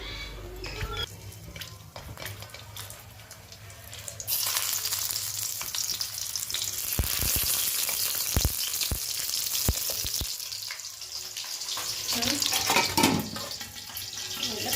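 Spiced stuffed capsicum fries in oil in a kadhai with a bright, continuous sizzle that grows louder after a few seconds, broken by occasional clinks and scrapes, close and with no talking.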